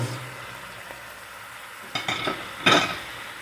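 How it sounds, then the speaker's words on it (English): Turkey wings and bones are stirred in a pot over a low sizzle, with two scraping, clattering bursts of the spoon moving the pieces, close by and without talk. "Give it a quick stir."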